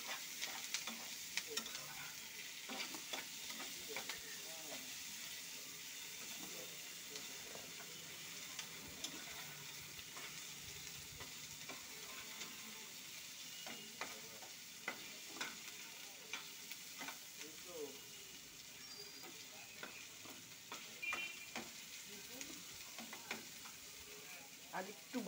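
Onion, grated coconut and tomato fry quietly in oil as a utensil repeatedly scrapes and clicks against the pan. The soft sizzle stays low and steady throughout, with no one speaking.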